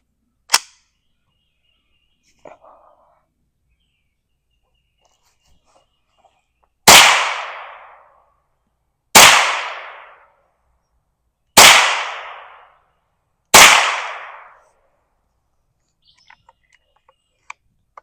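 Four loud, sharp shots spaced a couple of seconds apart, each with a quick decaying tail, from a suppressed Ruger 10/22 Takedown rifle with an Angstadt Arms Vanquish barrel firing Federal Gold Medal high-velocity rounds outdoors; a faint click comes earlier.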